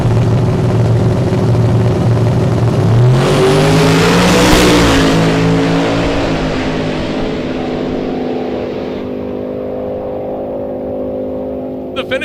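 A 2005 GTO and an orange Camaro launch down a drag strip, engines roaring loud and sustained, with pitch climbing through the run before fading as the cars pull away.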